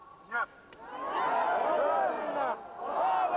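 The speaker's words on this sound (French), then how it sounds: "Gloire aux patriotes, répond la foule" A crowd in a court hearing room shouts a patriotic slogan in unison, a loud swelling roar of many voices that rises, dips briefly and surges again.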